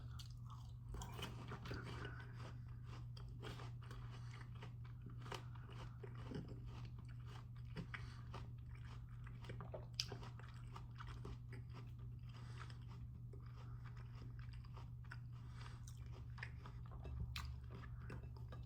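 Someone bites and chews a peeled Asian sand pear with soft, wet crunches, close up and steady over a constant low hum, with no talking.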